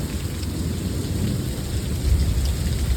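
A steady rainstorm with a heavy low rumble of thunder, loud and continuous as a broad hiss, with the thunder swelling near the end and no voices.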